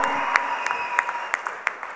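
An audience claps in a steady, evenly spaced rhythm of about three sharp claps per second over a broad hiss of crowd noise, close and moderately loud.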